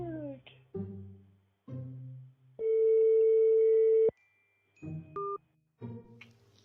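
Telephone call ringing out while waiting for pickup: a single long electronic ring tone sounds clearly between bursts of a voice talking nearby.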